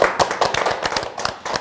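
Close, fairly loud hand clapping from a small group, uneven bursts of claps with brief gaps between them.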